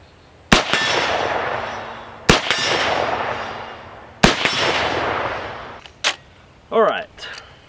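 Three sharp rifle shots from a CMMG Resolute 200 in 7.62x39, each followed by a ringing metallic clang from a steel target, spaced about two seconds apart, then a faint click and brief talk at the end.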